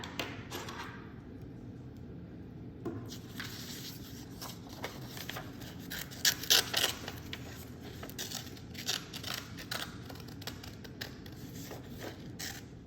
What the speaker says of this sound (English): Now that we have 2 circles, we'll cut them out.